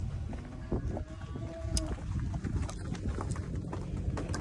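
Heavy hooves clomping and shuffling on a hollow metal floor as cows walk into a trailer, irregular thuds with faint rattles, no talking.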